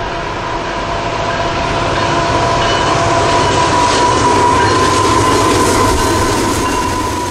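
A CSX freight train rolls past at mainline speed near Race Pond, Georgia, a loud, continuous roar of wheels and cars with a thin steady squeal riding on top and faint rhythmic clacking throughout.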